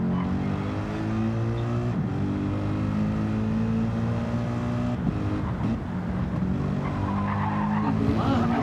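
A Porsche race car in a sim racing game at Watkins Glen roars at high revs, its engine drone shifting pitch through gear changes and lifts, with tire squeal and skidding layered over the steady, loud mechanical whine.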